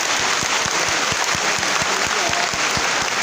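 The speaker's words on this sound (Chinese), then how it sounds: "我们是不是给自己一个热烈的掌声？" A large assembly audience in a university hall gives warm, sustained applause: a thick, even wash of many hands clapping at steady loudness, with faint voices beneath.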